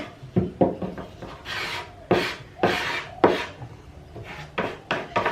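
Hand sanding of wood filler on wood furniture, a series of rasping strokes in irregular bursts, close and fairly loud, with no talking.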